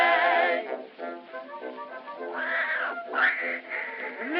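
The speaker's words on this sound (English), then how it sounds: "what is that hideous noise? Why, that's Tiny, my beautiful little Maltese cat." A Maltese cat meows repeatedly in long, drawn-out, wailing cries, loud and close, one call running into the next.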